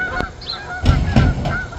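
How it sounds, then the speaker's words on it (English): Several Canada geese honk overhead in a loose series of nasal calls, fairly loud and close, with no talking. "Love hearing the Canadian goose fly over."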